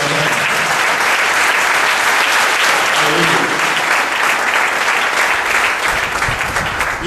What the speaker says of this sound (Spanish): Den un aplauso al Señor en esta mañana